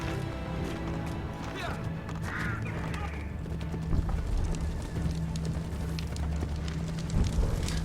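Horse hooves clop at a steady run during riding in Assassin's Creed III, a rhythmic pounding under game sounds, with someone speaking over it at points.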